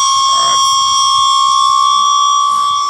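A Pikachu slot machine sounds its hopper error 02 alarm, a loud, steady, high-pitched electronic tone that holds without a break, with faint background noise beneath it.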